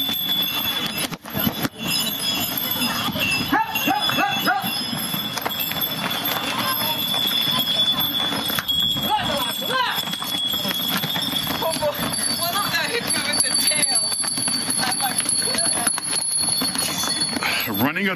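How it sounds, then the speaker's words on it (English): Mules stampede along a path on Santorini, their hooves making a rapid, continuous clatter mixed with jangling bells. The sound stays loud and close for the whole stretch, and people talk over it. "Running of the donkeys."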